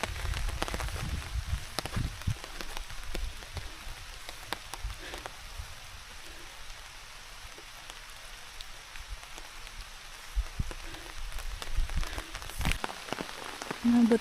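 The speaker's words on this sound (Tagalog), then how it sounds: "Nabot na kami ng ulan." Rain falls on a mountain hiking trail on Mt. Pulog in Sorsogon, a steady close hiss of drops with occasional heavier thumps and rustling, no clear voices.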